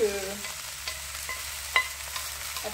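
Spinach cooking in a frying pan for a stuffed layered crêpe with cheese, a steady sizzle with occasional stirring scrapes and clinks, close and even, no voices.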